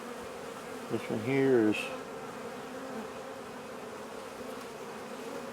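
Honey bees drone steadily around an open hive during an early spring queenless split, one bee passing close with a louder, rising buzz, and someone speaks briefly over it.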